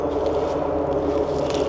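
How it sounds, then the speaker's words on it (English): Steady road noise from the busy Route 55 highway heard from a lakeside trail, a constant low rumble with no breaks, fairly loud and with no talking. "Lots of road noise."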